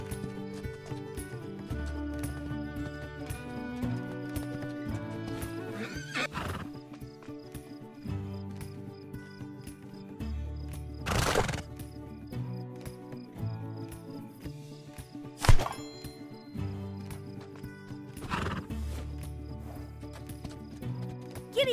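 Horse galloping and neighing in the video game Spirit Lucky's Big Adventure, with hoof clip-clop and occasional whinnies over a busy game music score, moderately loud throughout.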